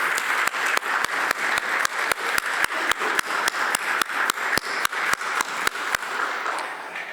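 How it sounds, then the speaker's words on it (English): At an annual general meeting, the audience gives board members a round of sustained, full applause with steady, regularly spaced sharp claps over a dense wash that tapers slightly at the end. "I'd like everyone to give just a little round of applause to the board members of the Survivor Secretariat for all they do"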